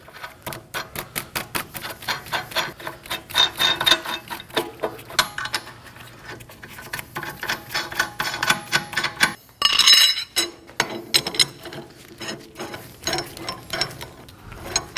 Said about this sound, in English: we're gonna go ahead and use a hub wheel removal tool